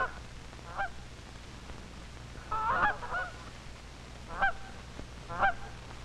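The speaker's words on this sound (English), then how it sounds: "High over the dummy decoy geese flies a flock of birds." A flock of wild geese honks high overhead in flight above a hunting blind with decoys, scattered calls arriving in a few faint, distant bursts over a quiet, low hum.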